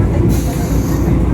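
A passenger train running on rails near Simultala station is heard from inside as a loud, steady low rumble and rattle of the carriage, continuous throughout.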